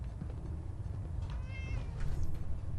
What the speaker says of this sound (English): Was that a legit cat?